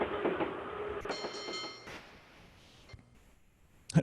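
A train sound effect played on an electronic keyboard rumbles and clatters along with a sustained horn-like tone, fading out, followed by a few sharp metallic clanks near the end.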